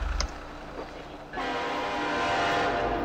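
Train horn in a video game sounds loud and sustained, following a short low rumble and a brief pause, blaring steadily to the end with no voices over it.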